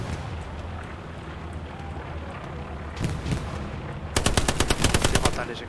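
Machine gun fire in the Hell Let Loose war game: a distant rumble of battle, then a short burst, then a loud, rapid, evenly spaced stream of automatic shots close by.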